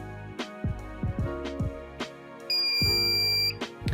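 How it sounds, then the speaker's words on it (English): A Dahua video recorder being hardware reset gives out electronic beeps: several short, spaced tones, then one longer, higher beep held for about a second, heard alone and fairly clear. "Keep the button held down until you hear this beep."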